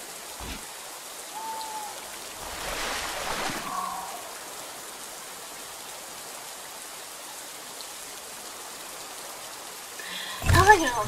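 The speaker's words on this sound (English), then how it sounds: "I'm either going to wait till it stops raining" Rain falling in The Isle video game, a steady wash of soft, even patter that runs throughout, with a few brief louder splashy bursts near the start and a sharper clatter at the very end.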